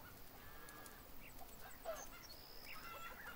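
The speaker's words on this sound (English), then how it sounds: "Scare the birds that are destroying your field." Birds in a field in the farming game Farm Manager 2018 give faint, scattered honks and short calls over a quiet background.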